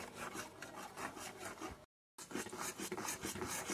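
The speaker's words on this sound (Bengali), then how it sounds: "দিয়ে আবারও এইভাবে নাড়তে নাড়তে ক্ষীরটা একটু শুকিয়ে নেব" A spoon stirs and scrapes milk kheer with palm jaggery around a pan while making pitha, giving steady rhythmic scraping strokes, close and fairly loud, broken by one short silence.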